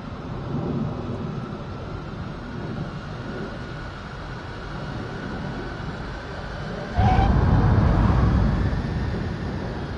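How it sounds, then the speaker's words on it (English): Jet fighter doing a touch-and-go landing in the Top Gun flight game, a steady engine rumble that swells abruptly into a louder, nearer roar partway through as the throttle comes up for takeoff. "This exercise has the plane landing, then taking off without stopping."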